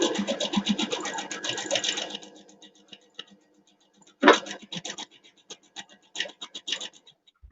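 Sewing machine stitching a zip-up bag, a fast run of stitching that slows and stops, then a few short bursts and clicks, fairly quiet and close.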